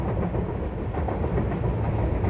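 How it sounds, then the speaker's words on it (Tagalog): MRT train rolling past on its rails, a steady, loud, close rumble with rhythmic clatter filling the whole clip, with no talking over it. "Hindi niyo nakikita yung MRT."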